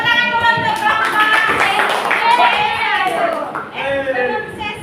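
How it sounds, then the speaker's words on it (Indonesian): Classroom applause for a presenting student group in an Indonesian school, steady clapping from many hands mixed with children's chatter and voices throughout. "Tepuk tangan dulu untuk kelompok"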